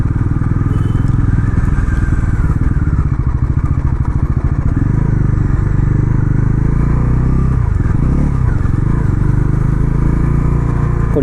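A Bajaj Pulsar NS400 motorcycle rides along a road in Hyderabad, its engine a loud, steady, close rumble that continues throughout, with a brief dip where it eases over speed breakers.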